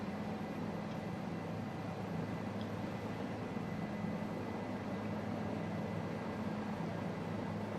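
A Bell 407 helicopter flies over the Caribbean near Antigua, its turbine and rotor making a steady, even drone that stays close and constant throughout, with no voices.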